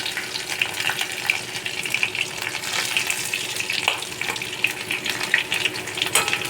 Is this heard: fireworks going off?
no